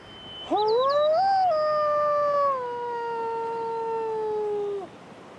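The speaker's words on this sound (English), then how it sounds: "And the wolf responds." A lone wolf howls back in the wild, one long clear howl rising quickly, holding steady and slowly sliding down over about four seconds, close and strong with a few high yelps at the start and no talk.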